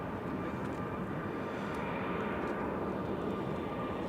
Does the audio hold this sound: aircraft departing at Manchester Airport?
yes